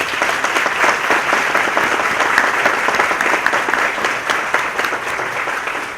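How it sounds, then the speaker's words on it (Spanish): Steady, dense applause from a large audience at a Miami Book Fair talk, loud and sustained throughout without a break. "Un aplauso para el doctor Fernández."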